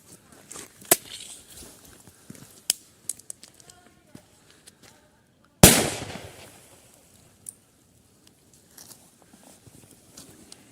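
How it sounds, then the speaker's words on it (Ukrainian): A training grenade explosion: a sharp, loud blast bursts out midway, preceded and followed by scattered faint pops, clicks and small outdoor noises. "Як тільки ми відпускаємо, іде відлік і відбувається вибух."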